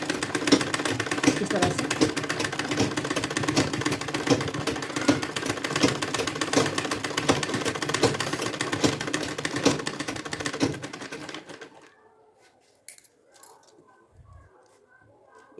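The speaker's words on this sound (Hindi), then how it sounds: "मेन फैब्रिक को छोड़ते हुए नीचे ऊपर करते हुए रनर के ऊपर से कर दूंगी मैं सिलाई" A sewing machine stitches fabric for a potli bag, a fast, steady mechanical rattle running for about eleven seconds before stopping, followed by a few soft handling clicks and a brief spoken remark.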